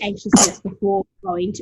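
A woman sneezes once, sharply, in the middle of her steady conversational talk, with the burst close and loud between her words.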